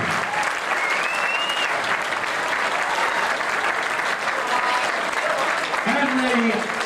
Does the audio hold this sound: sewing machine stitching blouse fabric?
no